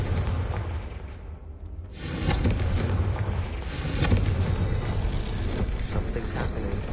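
Confringo blasting spell explosions in the Hogwarts Legacy video game: two loud, booming broadband blasts close together, rumbling over a continuous noisy game background.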